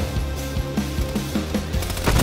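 Video game gunfire from a weapon in a shooter match, a run of sharp repeated shots in quick bursts across the whole span with no talk over it.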